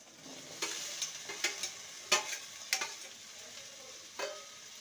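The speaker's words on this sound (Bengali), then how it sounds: "ভেন্ডিটাকে ভালো করে ভেজে নিতে হবে। লো টু মিডিয়ামে রেখে ভেন্ডিটাকে ভেজে নেব।" Okra (bhindi) frying with onion in a pan on low to medium heat, a soft sizzle under scattered stirring scrapes and spatula knocks, quiet and close, no speech.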